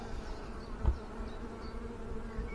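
Honey bees buzz at an open hive with the crown board lifted off, a faint, steady, close hum with no talk.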